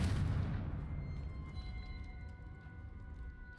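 A Confringo spell explodes in the video game Hogwarts Legacy: one loud, deep blast at the start that decays into a long rumbling tail, with faint ringing tones lingering as it fades.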